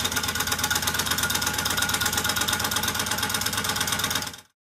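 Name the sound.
homemade Stirling engine with glass syringes running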